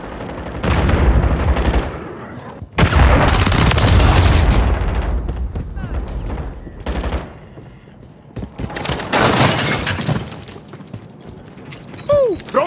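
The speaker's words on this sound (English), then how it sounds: "Friendly cruise missile deployed." Cruise missile strikes in the Call of Duty Modern Warfare 3 multiplayer video game set off heavy booms and rumbling blasts, mixed with rattling gunfire and mechanical clatter, in loud waves with short lulls between.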